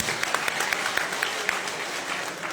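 Audience applause at a BNP union conference in Nanupur, a dense steady patter of many hands clapping with sharper individual claps poking through, sustained at moderate distance throughout.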